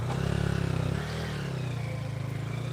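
A motorcycle engine on a muddy rural road, its low rumbling drone steady and fairly close, with a brief rev pulse early on and no speech.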